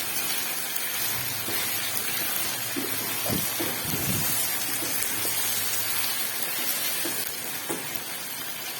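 Taro (arbi) slices roast in a pan over a high flame, giving a steady, close sizzling hiss that sounds like rain on a surface and carries a few soft clinks and scrapes.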